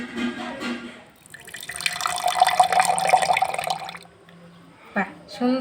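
Tap water runs steadily into a sink in the middle of the clip while something is washed, a broad hiss between short bursts of nearby talk in a home kitchen.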